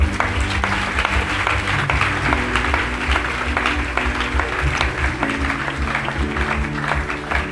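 A congregation at a church service clapping their hands together, a continuous, loud patter of many palms layered over steady low music or organ tones throughout.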